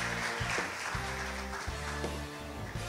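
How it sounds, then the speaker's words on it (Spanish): At an award ceremony, an audience claps in a steady, continuous patter, moderately loud and sustained over a low background hum. "Que se sienta el aplauso entonces para Windri Amadís Martínez."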